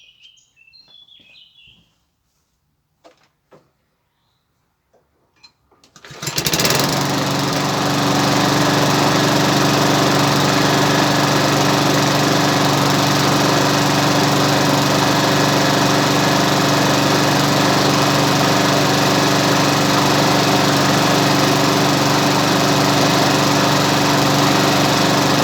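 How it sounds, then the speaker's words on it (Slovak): After a few seconds of near-silence with faint birds, a lawn mower engine starts and runs steadily and loudly at a constant drone, its oil treated with a ceramic ester additive. "Teraz kosačku naštartujem"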